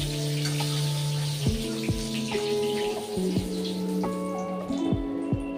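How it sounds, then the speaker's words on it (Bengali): Eggplant slices frying in hot mustard oil, a steady bubbling sizzle with scattered crackles and pops, moderately close, under soft background music and with no talking. "তেল গরম হয়ে গেছে, এবার আমি এক এক করে বেগুনগুলো ভেজে নেব।"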